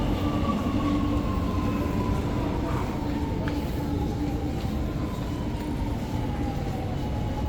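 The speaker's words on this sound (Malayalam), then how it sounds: "ഷെഫി വണ്ടി ഇപ്പൊ വരുമോ അത് കുഴപ്പമില്ല വണ്ടി ഇപ്പൊ വരും" A metro train pulls into a station near Chennai airport, its steady rumble carried under a slowly falling electric whine as it slows. The sound stays moderately loud and continuous over the crowd's background murmur.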